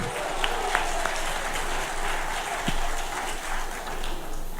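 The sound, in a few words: audience applause for former Safari Rally drivers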